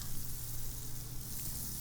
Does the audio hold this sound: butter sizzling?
yes